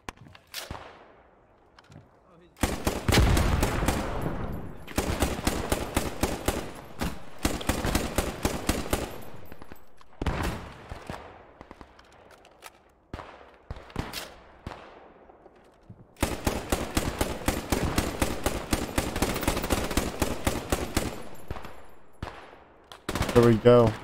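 Bursts of machine-gun and rifle fire in the WWII shooter Post Scriptum, played while defending a bunker as the French: long rattling volleys separated by quieter single shots, with sporadic talk underneath.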